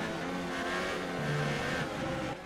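A Formula One car engine in the F1 2018 video game revs and accelerates in a brief, synthetic-sounding burst during the British Grand Prix, its pitch shifting as the throttle rises, with no talking.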